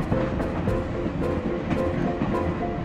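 A running train aboard the Holiday Express in the game Cookie Run Kingdom gives a steady, loud rumble with a faint rhythmic clatter, continuous throughout and without speech.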